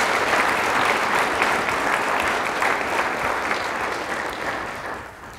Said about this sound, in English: Let's give them, again, all a round of applause for their efforts and contributions